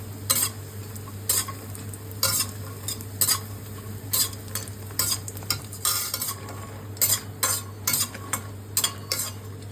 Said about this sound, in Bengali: এবার আমি বেশ কিছু ফুল বড়ি ভেজে নিচ্ছি।